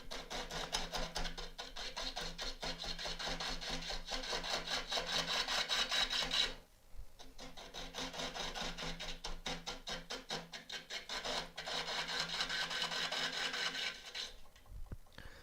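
An elm burr spins on a wood lathe while a tool cuts it, giving a steady close rasping and scraping. The cutting breaks off briefly around the middle, then resumes, with no talking.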